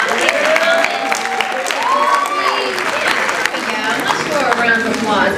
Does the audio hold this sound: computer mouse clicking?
no